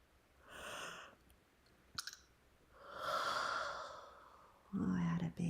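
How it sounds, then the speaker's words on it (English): A person gives one long, drawn-out yawn, breathy and voiced, with softer breaths and a sigh around it, close and quiet. "I had a big yawn on that one."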